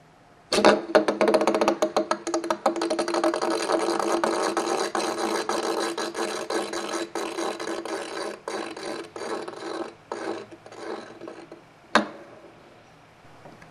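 A LEGO Ninjago 9566 Samurai X Nya spinner whirring on a hard surface, a close continuous rattling spin that starts abruptly, gradually slows and breaks into sparse clicks, ending with a sharp knock.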